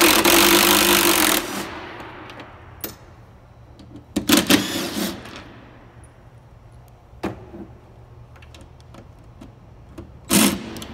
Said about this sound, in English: We use our little impact little driver and back them all the way out.